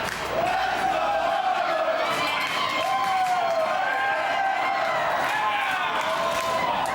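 Loud crowd of hockey fans cheering and shouting in Edmonton, a sustained roar with rising and falling yells across the whole stretch.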